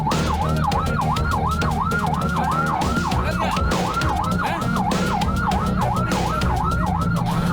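Ambulance siren wailing continuously in a rising-and-falling pattern, loud and close, stuck in a traffic jam in Sukabumi, West Java, with dense traffic noise and engine rumble underneath.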